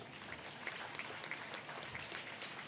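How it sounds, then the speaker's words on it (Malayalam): Children in an auditorium clap together in a steady, dense wash of applause that stays even throughout, fairly distant and without any voices. "കുട്ടികൾ ഉഷാറായിട്ടൊന്ന് കൈയടിച്ചേ."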